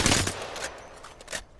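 The Alternator, a dual-barrel gun in the video game Apex Legends, fires a quick burst of rapid shots that starts loud and thins out over under two seconds.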